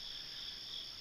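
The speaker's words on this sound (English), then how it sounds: "you can hear the crickets chirping." Crickets chirp in the early morning near Fontana Dam, North Carolina, a steady high-pitched continuous trill, fairly faint and unbroken, with no voices.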